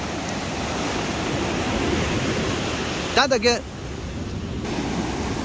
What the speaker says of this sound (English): I love the sound of the waves, it's so calming.